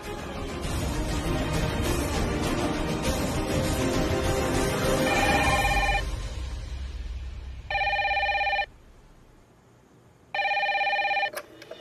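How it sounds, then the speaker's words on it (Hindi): A landline telephone rings through a speakerphone, two distinct electronic ring bursts separated by a pause, following a fading stretch of louder background noise. "घर पे उनके लैंडलाइन पे फोन कीजिए and put it on speaker."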